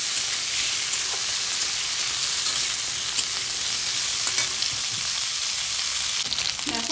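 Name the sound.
frying drumstick stalks and potatoes in pan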